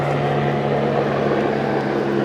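A helicopter buzzes overhead in a steady, loud, droning hum with a low rotor tone, continuous and without talk.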